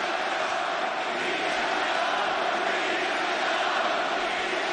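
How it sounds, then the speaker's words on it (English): A sold-out crowd at a lucha libre wrestling match in Arena Mexico cheers for the challengers. It is a loud, steady roar of voices with no break. "This sold-out crowd decidedly supporting the challengers as Bandito greets Bishop Kaun"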